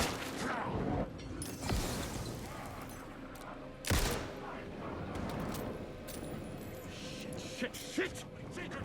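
Gunfire rattles in Alan Wake II as enemies are shot, a few sharp bursts standing out over a rumbling, tense game soundscape, moderately loud with scattered impacts.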